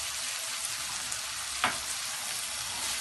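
Vegetable fried rice stir-frying in a pan as soy sauce and chili sauce go in, a steady close sizzle with a brief sharper hiss partway through.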